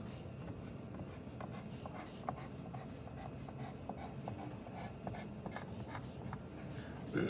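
Pencil on paper scratches out a steady run of short dashed fold lines for a lidded box template, with quick rhythmic strokes, close and soft.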